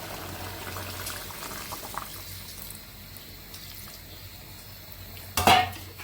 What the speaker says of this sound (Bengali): তরকারি কষানো শেষ, ঝোলের পানি দিয়ে দিচ্ছি।